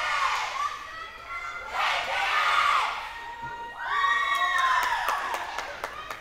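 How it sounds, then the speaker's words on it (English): Crowd at a school spelling event cheers and shouts in two loud surges, with children's voices high in the mix and a few scattered claps, the noise easing briefly between bursts. "The crowd is going wild."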